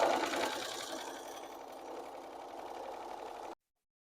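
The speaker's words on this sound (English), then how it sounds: "we're just stretching and sewing along the inside edge all the way around" A sewing machine runs in one steady, quiet whir while stretching and stitching along the inside edge of a flat sheet being made into a fitted sheet, then cuts off abruptly.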